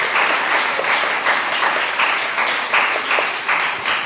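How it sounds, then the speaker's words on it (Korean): Congregation at a young adults' Sunday church service applauding together, steady dense clapping from many hands filling the room for about four seconds with no talk over it. "고생한 홍보팀에게 큰 박수 한번 부탁드리겠습니다"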